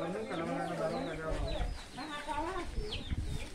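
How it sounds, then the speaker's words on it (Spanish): A guinea fowl calls with harsh, repeated clucking cries at moderate distance on a rural property, heard under people talking in the background. "una gallina guinea"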